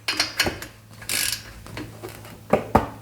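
A torque wrench tightening bolts to about 100 foot-pounds during a supercharged SVT Cobra engine swap into a Mercury Marauder, giving several sharp metallic clicks and ratcheting rattles with short quiet gaps between them.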